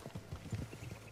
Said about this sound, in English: I'm on my horse, Micah.